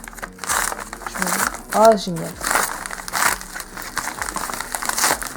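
Crinkling and crumpling of parcel packaging as it is cut open with scissors, the rustles coming in close bursts under a woman's excited speech.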